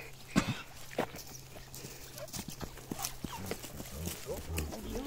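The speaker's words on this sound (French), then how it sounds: "On croise les chevaux sur la route." Horses met on a road clop along in an uneven series of hoof strikes, moderately close, with a few louder knocks and light outdoor background.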